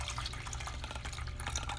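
Milk poured through a strainer while making homemade yogurt, heard up close as a steady liquid splashing with dripping, continuous for the whole stretch with no talking.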